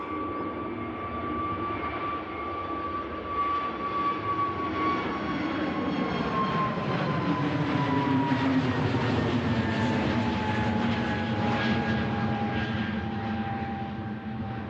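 A jet airliner takes off from Manchester Airport, rotating early, its loud engine roar carrying a clear falling whine that slowly drops in pitch as the aircraft climbs past, heard alone without talk.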